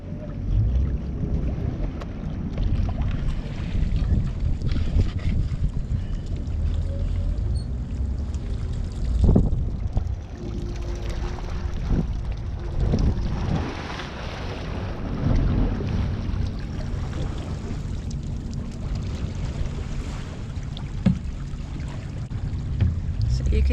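An oyster farm boat is readied against a long line out on the bay, its engine rumbling low and steady under gusting wind noise, with occasional water splashes and brief knocks.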